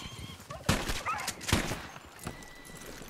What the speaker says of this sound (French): Ah bah là, ils ont entendu les coups de feu.